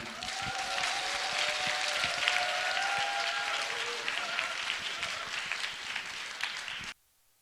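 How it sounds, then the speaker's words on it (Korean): Audience applause at a Christian conference in a church hall, a dense, sustained wash of many hands clapping for about seven seconds, with faint voices mixed in before it cuts off abruptly. "큰 박수로 모시겠습니다."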